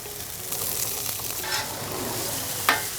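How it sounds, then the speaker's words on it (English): Mushrooms frying in a pan give a close, continuous sizzle with light stirring scrapes and a sharp clink near the end. "We'll leave this on because we're gonna cook the mushrooms."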